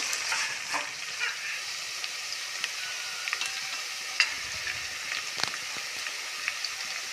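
Green chillies frying in a pan for a veg biryani, a steady close sizzle with scattered pops and crackles and occasional stirring scrapes throughout.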